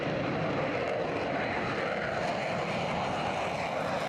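A fighter jet passing overhead, heard as a loud, steady, broadband engine roar that holds constant throughout with no voices.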